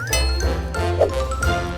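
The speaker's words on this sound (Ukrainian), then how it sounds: "Кладемо пляшку в холодильник." A glass bottle is set into a kitchen refrigerator, giving a few light clinks and tinkles against a steady low hum.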